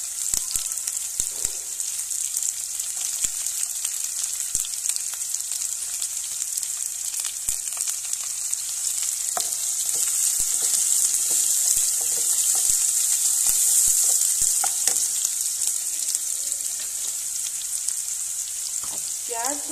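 Chopped onions frying in oil for desi-style fried rice, a loud continuous close sizzle with occasional stirring scrapes and clinks.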